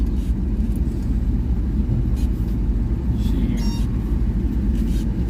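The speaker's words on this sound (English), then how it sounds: "Seems to be a lot of traffic on this road." Road traffic passes an RV driving along a town road, a steady low rumble of tyres and engine with faint passing vehicle swells and a voice speaking over it.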